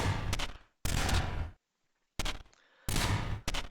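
Cannons firing in the Neon Defense tower defense video game: loud bursts of rapid fire come in four or five clusters, broken by short silences.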